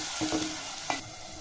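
Green chilies dropped into hot oil for a fish gongura curry, giving a brief bright sizzle with a few stirring scrapes up close, then a steady low frying hiss.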